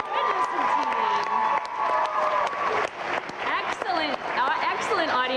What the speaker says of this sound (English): a second round of applause there for the participants and their physical fitness routine